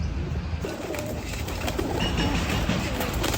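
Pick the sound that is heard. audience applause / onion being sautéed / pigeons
pigeons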